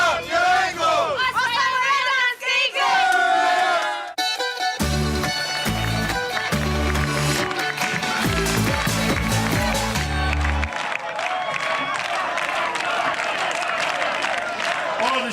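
A crowd of Konavle supporters cheers loudly in a dense, continuous roar, mixed with clapping and loud music with a pounding beat, at a City Games event in Kaštela.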